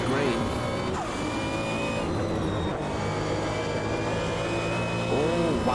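GT1 race car engine in the sim racing game Automobilista 2, held in second gear at dawn, a steady loud engine drone with shifting pitch as the throttle rolls on, continuous throughout with no one talking.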